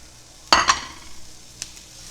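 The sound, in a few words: stirring rice with halved salad tomatoes in a pan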